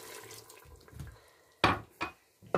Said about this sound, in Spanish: le voy a echar otra tacita de esa de agua y voy a tapar la olla por 15 minutos